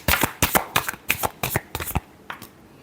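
Tarot cards are riffle-shuffled close up in a quick series of about eight crisp, papery bursts, with a final softer flick at the end.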